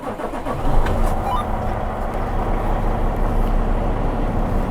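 A stone transport truck's engine cranks and catches, then settles into a steady, close, rumbling idle that continues to the end.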